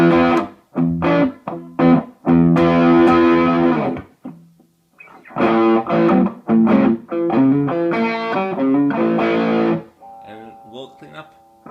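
Electric guitar with heavy distortion plays a riff of chopped chords and sustained notes, loud and close, with brief pauses between phrases.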